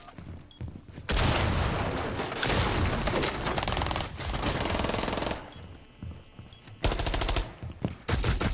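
Rapid automatic SMG-12 fire in a video game, shown with no recoil, comes in two long sustained bursts and a shorter final one, loud and close, with brief gaps between.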